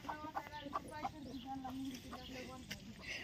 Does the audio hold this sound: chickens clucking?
yes